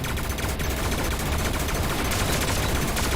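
A gas cannon fires in the space combat game EVERSPACE 2, a dense, loud, continuous barrage of rapid blasts with no pauses and no talk.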